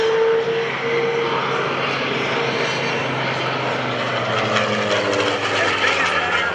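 A Curtiss SB2C Helldiver, a large carrier-based dive bomber with a propeller engine, roars past at an airshow, its engine drone loud and steady while an announcer talks over it.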